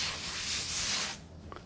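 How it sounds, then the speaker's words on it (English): Close, steady sanding of epoxy primer on the planks of a wooden sport dory, a continuous rasping rub that stops abruptly near the end, leaving quiet room tone. "I'll be done sanding"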